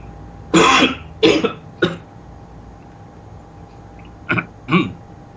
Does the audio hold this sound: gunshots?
no